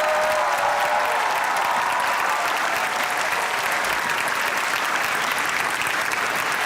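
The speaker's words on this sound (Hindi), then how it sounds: "आपकी भरपूर तालियों में" Loud, sustained applause from a large studio audience at a comedy talk show, dense steady clapping throughout with no pauses and no voices standing out.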